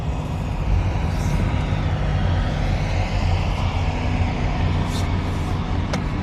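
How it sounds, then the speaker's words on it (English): A generator runs steadily at a police scene, a constant low broadband drone filling the whole stretch with no pauses, joined by a few faint higher clicks and brief noises over it. "Well, they're running off the generator. That's what that sound is."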